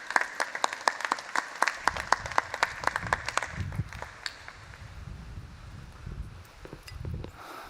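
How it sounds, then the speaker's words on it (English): Conference audience at JuliaCon 2024 applauding a speaker on the main stage, a burst of dense clapping that fades out after a few seconds into a quiet room murmur. "a round of applause for our speaker"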